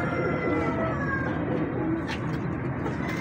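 A breeder pigeon coos softly against a steady, loud background hum, with a faint distant tone partway through.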